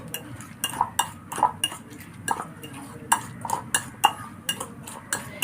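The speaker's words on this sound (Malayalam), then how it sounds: "ഇനി എല്ലാം കൂടിയിട്ടൊന്ന് മിക്സ് ചെയ്ത് കൊടുക്കാം" Spoon clinks and scrapes against a bowl as snack ingredients for breaking the Ramadan fast are mixed together, giving a steady, irregular run of close, light metallic taps with no talking.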